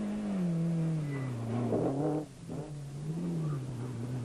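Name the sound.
rally car engine revving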